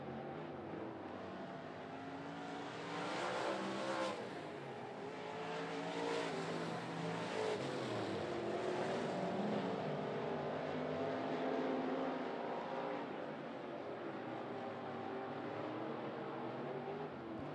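Modified race cars on a speedway oval during a 20-lap feature, their engines blending into a continuous distant roar that swells and fades slightly as the pack circles, with no voices.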